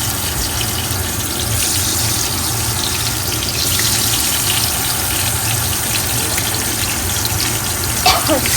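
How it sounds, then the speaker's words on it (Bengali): Chilies frying in a pan for chili mash make a continuous, dense sizzling hiss over a low steady hum, close and fairly loud, with a brief clatter near the end. "এখানে এখন মরিচ ভর্তার জন্য মরিচ ভাজবো"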